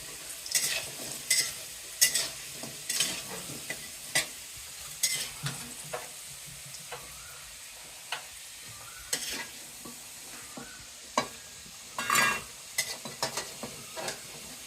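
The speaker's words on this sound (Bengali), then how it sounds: "এগুলো হচ্ছে মুরগির মাংস দেওয়ার জন্য আলু," Potatoes frying in oil in a pan before going into a chicken curry, a continuous soft sizzle broken by repeated sharp scrapes and clacks of a spatula stirring them.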